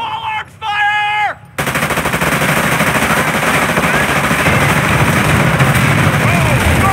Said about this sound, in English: Taking small arms fire!